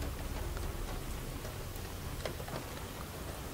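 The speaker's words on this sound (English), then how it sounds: "look at the rain saturating the back of her" Rain falls steadily in the video game Detroit: Become Human, a soft, even hiss with faint scattered drops and no voices.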